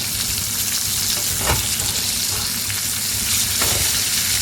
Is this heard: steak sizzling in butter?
yes